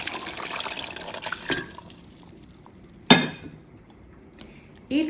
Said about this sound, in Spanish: Le voy a agregar 2 tazas de caldo de pollo.